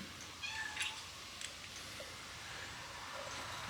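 A workshop cat meows several times, faint and fairly distant, with short cries scattered over a quiet room background.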